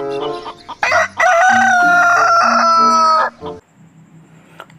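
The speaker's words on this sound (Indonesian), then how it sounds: "Wow, ini ada ayam." A rooster crows once, loud and close, a long drawn-out call followed by quieter clucking.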